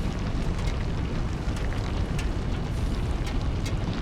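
A production machine in the factory game Satisfactory starts up, giving a steady, loud mechanical rumble with faint metallic clanks and hiss across the whole stretch, heard alone with no talking.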